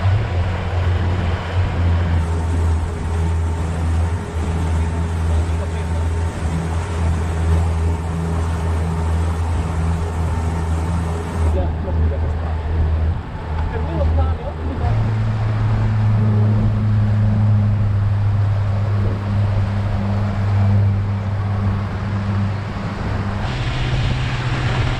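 A tour boat's engine drones steadily and loudly on Lake Ohrid in North Macedonia, a continuous low hum with wind and water noise that shifts pitch partway through.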